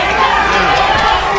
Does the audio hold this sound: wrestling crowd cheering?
yes